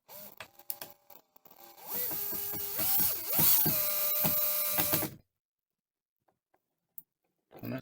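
A power drill drives screws through a board into a support, whirring and ratcheting in bursts that rise in pitch and load, then stops abruptly, leaving near silence with a few small knocks.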